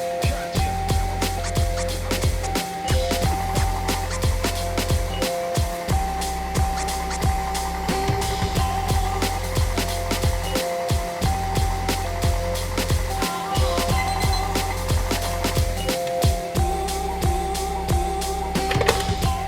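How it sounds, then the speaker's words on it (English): An electric stand mixer beating vegan carrot cake batter of combined wet and dry ingredients on its lowest speed, a steady mechanical whir with rhythmic knocking and clicking throughout, close and continuous with no talking. "add my dry ingredients into my wet ingredients and mix on speed 1 for 40 seconds"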